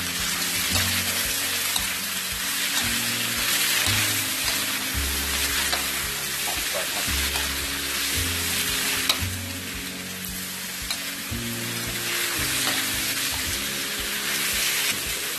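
Shrimp stir-fry in a hot pan, shells crisping as the liquid cooks down: a steady, loud sizzle fills the whole stretch, with repeated scraping and tossing strokes layered over it and no talking.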